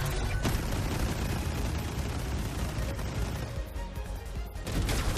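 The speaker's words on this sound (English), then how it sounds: "Explosions for days." Dense, continuous explosions and gunfire roar through a battle in the video game 13 Sentinels, loud and close, with booming blasts piling up into a sustained rumbling barrage with no talking.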